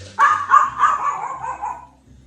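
A dog lets out a single drawn-out bark that trails into a whiny, yelping howl, fairly close and clear with little else around it.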